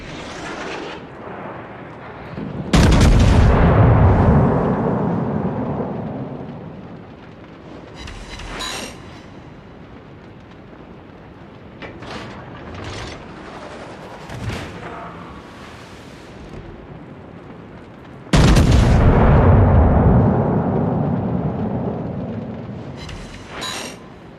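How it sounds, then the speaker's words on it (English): Warship turret guns firing in the video game World of Warships, two huge booming salvos that each decay into a long rumble, with smaller thuds and game noises in between. "Swing out real quick so I can get the rear turrets"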